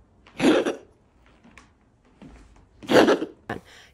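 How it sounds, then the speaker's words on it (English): Two harsh, raspy bursts of a cat coughing and gagging, as if on a hairball, about two and a half seconds apart, close by, with a brief quieter hack after the second. "You want me to insert the video of Cowboy gagging"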